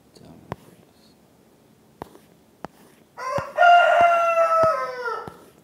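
A rooster lets out one loud, drawn-out crow lasting about two seconds, after a few quiet clicks, with soft low voices in the background.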